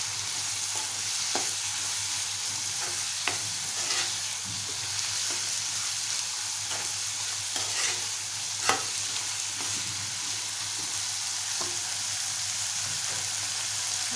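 Sprouted moong and finely chopped tomato being stirred together in a pan, a steady soft sizzle broken by occasional sharp scrapes and taps of the spoon, close and continuous, no talking.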